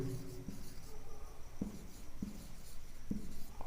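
A pen writing on paper during an English composition lesson, heard as faint scratchy strokes with a few distinct taps in a quiet room, no talking.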